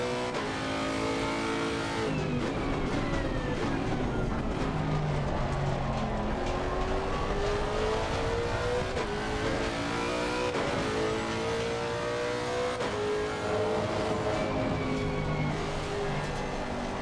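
A race car engine in the video game Assetto Corsa Competizione, lapping the Nordschleife, roars continuously, revving up and down through gear changes with rising and falling pitch, loud and close throughout.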